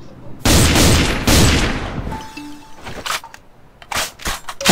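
Loud bursts of gunfire from an old weapon in the CrossFire shooter game, several heavy blasts followed by quieter clicks, shorter shots and a brief tone, fairly close and dominant.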